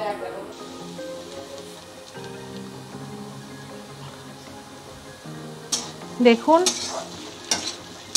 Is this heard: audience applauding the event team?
no